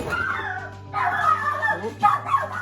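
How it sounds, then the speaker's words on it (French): A pet dog barks indoors at someone at the door, sounding as a few loud, yelping bursts in quick succession over a low steady hum in a home sewing room. "je m'excuse pour mon chien, il y avait quelqu'un à la porte"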